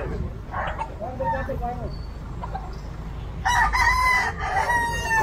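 Fighting roosters on a farm, with clucking and a loud crow breaking out near the end while people talk over the birds.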